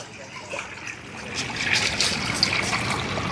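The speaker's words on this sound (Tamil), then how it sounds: "இன்றைக்கு இந்த நீரோட்டம் வந்து கூடி இருக்குது" A water current flows past a bridge in Mullaitivu as a steady, moderate rushing and trickling wash that grows a little fuller toward the end, with no voices.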